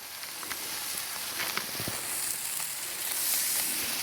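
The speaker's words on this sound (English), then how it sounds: "Oh, that sizzle." Thick-cut store-brand bacon sizzles steadily on a greased Blackstone griddle, a continuous close hiss with small pops and crackles throughout.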